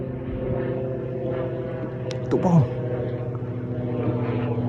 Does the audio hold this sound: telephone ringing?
no